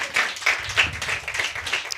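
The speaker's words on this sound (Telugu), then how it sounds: "చప్పట్లు కొట్టి ప్రభువుని ఘనపడదాం" Congregation clapping hands together during a church Sunday service, a steady rhythmic run of claps from many people filling the room, fairly close and moderately loud.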